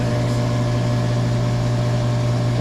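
A pool filter pump motor runs steadily during backwash, a constant close hum with a strong low tone and faint mechanical whir, alone and unchanging for the short stretch.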